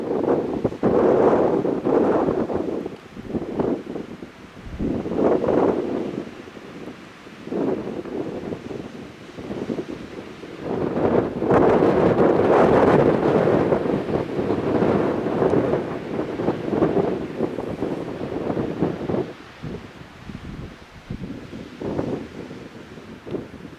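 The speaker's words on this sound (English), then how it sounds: "You can hear that wind, no doubt." Strong wind roars across a mountaintop summit, buffeting the microphone in long gusting surges that rise and fall for over twenty seconds with no one talking.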